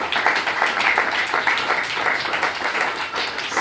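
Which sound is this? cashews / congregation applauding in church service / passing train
congregation applauding in church service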